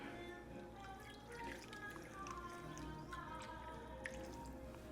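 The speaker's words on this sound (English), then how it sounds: "I'm gonna pour it around the edges" Liquid being poured around the edges of a pan of apple dumpling crescent rolls, quiet trickling and dripping with soft wet squishes over a low steady kitchen hum.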